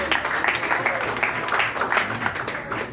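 Church congregation clapping for Methodist women drama performers at a Sunday service, a moderate round of scattered applause with a voice briefly audible over it.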